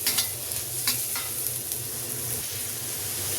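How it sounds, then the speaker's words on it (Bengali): Noodles stirred in a frying pan for a minute or two, a steady sizzle under close, irregular scraping and clatter of the utensil against the pan, no voices. "এটাকে আমি 1-2 মিনিট একটু নেড়ে নিই।"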